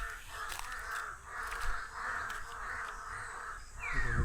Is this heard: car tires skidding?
no